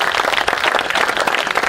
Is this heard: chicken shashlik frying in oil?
no